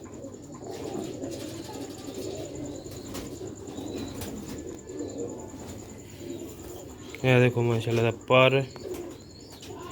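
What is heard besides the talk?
Sialkoti pigeons cooing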